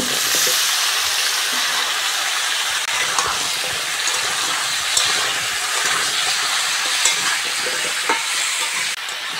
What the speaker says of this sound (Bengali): কুমড়ো আর আলু ভালো করে ভেজে নিয়েছি বন্ধুরা।